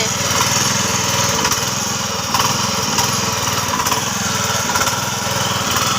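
A soil preparation machine for a betel vine plantation runs steadily with a loud, continuous small-engine drone like a lawn mower, holding a constant pitch throughout with no talking.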